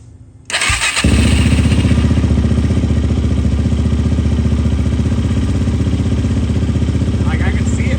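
A motorcycle fitted with a clear starter gear cover cranks briefly and fires up, then settles into a loud, close, steady idle with a rapid mechanical clatter running throughout.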